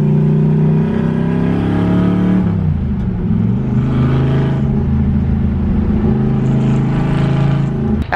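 A front-wheel-drive car is driven hard in a drift, its engine revving loudly and close, the pitch dipping and climbing as the throttle changes.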